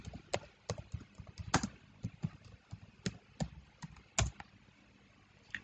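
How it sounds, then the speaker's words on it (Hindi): Quiet typing on a computer keyboard, with irregular soft key taps and a few sharper strokes close by. "तो मैं यहाँ पर सिंपली टाइप कर देता"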